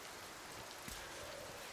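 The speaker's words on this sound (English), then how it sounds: "And now it's raining." Steady rain falling in the climbing video game Cairn, a soft, even hiss of drops with a faint patter, continuous and quiet with no voices.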